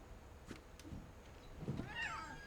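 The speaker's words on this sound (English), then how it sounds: "There's a kitty out here, though." A cat meows a few times in the video game What Remains of Edith Finch, soft, short calls against a quiet outdoor backdrop, the last one a longer rising mew.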